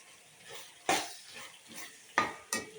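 Tomato and drumstick pieces frying in a pan, with a soft background sizzle broken by several sharp clinks and scrapes of a stirring utensil against the pan, no talking.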